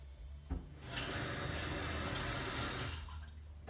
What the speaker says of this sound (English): So I'm going to put some water in here and put it on to boil.